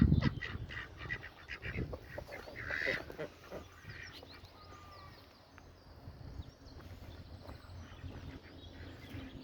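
Ducks and geese honk and quack near a farm pond, with a busy cluster of calls at first that thins into scattered, fainter calls against open outdoor background noise.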